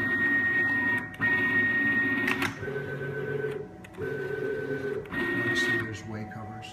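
PM30 CNC milling machine running its axes in quick moves, giving steady electronic whines and hums that change pitch with each motion and stop in short pauses between them, heard close by in a workshop.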